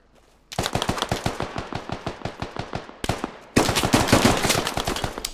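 Rapid loud automatic gunfire in the Squad military shooter game, continuous bursts of sharp shots with a brief pause, then a heavier, denser volley.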